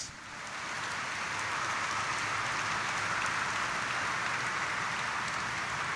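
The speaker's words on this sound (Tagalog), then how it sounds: "pumalakpak ng malakas." A congregation at an evening Simbang Gabi mass in Quiapo Church claps loudly, a dense, steady roar of many hands that rises within the first second and holds evenly, resembling heavy rain.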